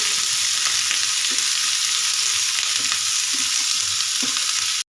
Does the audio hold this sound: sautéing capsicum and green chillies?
yes